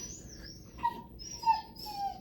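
A dog whines and whimpers in high, wavering tones, several drawn-out cries in a row, indoors and fairly close, with no talk over it.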